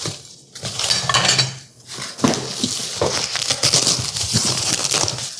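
Fortessa restaurant tableware bowls clink and knock together as they are handled, a steady run of close, bright ceramic rattles and taps with brief pauses.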